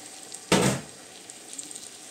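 Chicken stock poured into a pot of cooking pancit, giving a single short, loud splash and sizzle that fades within a second, followed by a faint simmering hiss.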